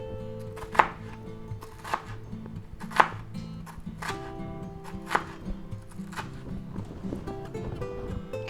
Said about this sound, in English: let's go ahead and cut them in little chunks